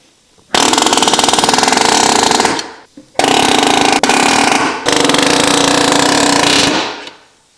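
A compact hammering power tool drives nails into a wooden floor joist during a repair, three loud rapid-fire bursts of close mechanical hammering, each lasting a couple of seconds, separated by short pauses.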